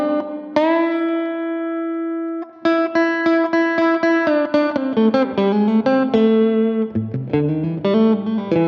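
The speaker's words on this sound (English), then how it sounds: "Clean Tones middle and bridge." A modded beginner electric guitar on a clean tone with the middle and bridge pickups together rings out one sustained note, then a quick run of picked single notes and chords, close and clear, with no talking.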